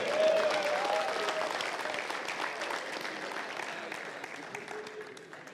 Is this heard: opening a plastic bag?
no